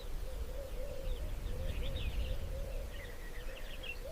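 Red-billed oxpeckers give thin, scattered chirps over a steady low rumble of wind and bush ambience while perched on a Cape buffalo, the calls fairly faint and intermittent throughout.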